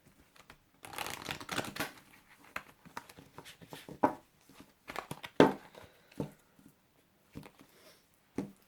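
Oracle cards are shuffled and riffled in irregular bursts of soft slapping and flicking, with short pauses between, quiet and close.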